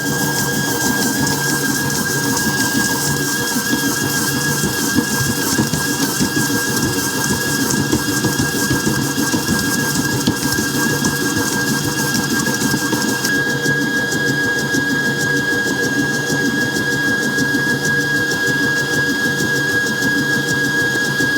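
A Hauswirt 5.3-quart digital stand mixer, 11-speed touch-screen model, creams butter and sugar at a higher speed, giving a steady, loud motor whir with a sustained tonal hum and constant beater churn throughout, with no talking.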